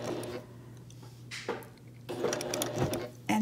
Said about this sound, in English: And I like to add a couple of back stitches to hold it securely.